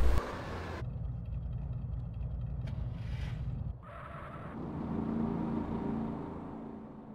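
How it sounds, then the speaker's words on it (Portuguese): A car drifting in GTA San Andreas, with a steady engine drone and tire scraping that cuts off abruptly, then shifts to a lower rumble that swells and fades. "Olha o drift, mano."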